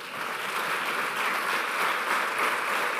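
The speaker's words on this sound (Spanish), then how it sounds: "A continuació, un fort aplaudiment per Billy Hernán Gómez." A large crowd applauds continuously, a dense, steady wash of clapping with no voices standing out, at a basketball player presentation.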